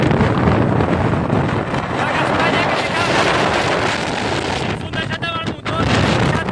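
Strong windstorm with hail striking cities in Spain during Storm Dana: loud, continuous roaring wind buffeting the microphone for the whole stretch, with rumbling low gusts and a brief clattering burst near the end.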